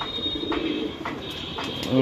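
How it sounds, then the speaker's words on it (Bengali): Eight racing pigeons coo in soft repeated bursts about every half second, close by over a low background hum, with a voice briefly at the end. "এখানে আট পিস কবুতর আছে"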